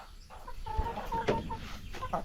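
Chickens eat homemade feed of corn and other farm ingredients while clucking in short, close bursts, with soft rustling and pecking between calls.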